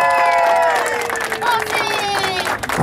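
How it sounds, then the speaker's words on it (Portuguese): A crowd cheers and shouts for an honoree at a surprise celebration in Sapopemba, in São Paulo's east zone. Loud, sustained voices with whoops carry some clapping throughout. "Uma salva de palmas para nossa homenageada"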